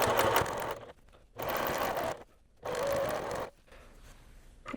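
A sewing machine stitches binding onto a quilt in three steady whirring runs, each about a second long, separated by short quiet pauses, close and fairly soft.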